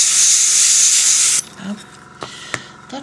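Hairspray blasts from an aerosol can in one long, loud, steady hiss for over a second, used for hairspray-and-salt weathering of a surface, then stops and gives way to faint scattered clicks and handling noises.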